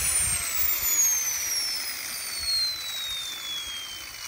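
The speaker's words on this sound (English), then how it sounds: "Now you'll hear it like keep cycling on and off, and that's what it does to cool the engine down" A Whiplash model turbine engine shuts down and winds into its cooling cycle, a steady whooshing roar with a high whine that slowly falls in pitch and swells a little as it cycles.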